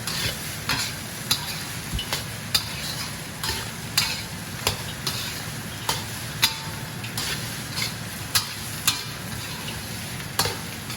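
Crab and Chinese sausage egg fried rice stir-fried in a wok: a steady sizzle with sharp metal spatula scrapes and taps recurring roughly every half second, close and fairly loud with no talk.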